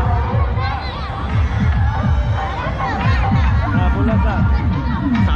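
A dense crowd murmurs at a Durga Puja pandal in Shivpur, Banaras, a constant loud babble of many voices with occasional shouts and bangs.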